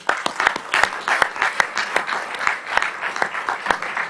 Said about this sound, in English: clap your hands for marketing manager at UEFA, Mr. Ivan Kral